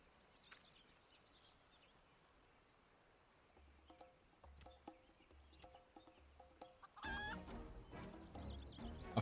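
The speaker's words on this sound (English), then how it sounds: "A feral chicken?" Chicken clucking in the Final Fantasy XIV video game, quiet scattered clucks at first that grow louder and busier toward the end over a faint ambient background.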